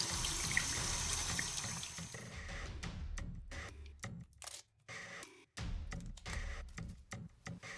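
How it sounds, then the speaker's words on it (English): Tap water runs into a sink as etching cream is rinsed off etched glass, a close, steady splash that breaks into intermittent gushes and handling sounds, with no voices. "I washed away the etching cream under the tap and then peeled off the stencil."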